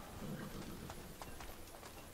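Horse hooves clip-clop on the ground in Assassin's Creed Brotherhood, a brisk run of close hoofbeats that stays fairly quiet under a noisy game background.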